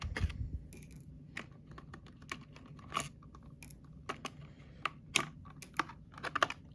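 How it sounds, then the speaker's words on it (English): Plastic body clips being pulled off a red and white Losi Mini T 2.0 RC truck with yellow rims: a close, irregular series of sharp little clicks and snaps over about seven seconds, with no talking. "Pull the clips off, give you a quick look under the hood"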